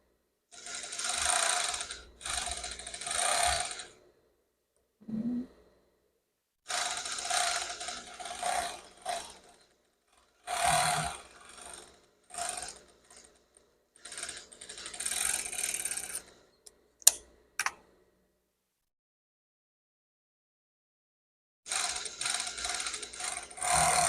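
Domestic sewing machine stitching bias binding onto the leg openings of panties, in several separate runs of rapid mechanical rattling stitches broken by quiet pauses and a couple of sharp clicks.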